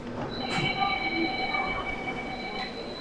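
Train near Gandhigram railway station in Gujarat, wheels squealing in sustained high metallic tones over a steady rolling rumble, heard close by without talk.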